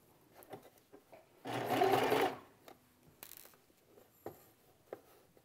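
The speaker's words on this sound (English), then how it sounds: "as you continue sewing the curves, they're going to get easier and easier and faster" A sewing machine stitching curved quilt block pieces for a Rob Peter to Pay Paul block, one short, close whirring run of just under a second in an otherwise quiet room, with light handling sounds around it.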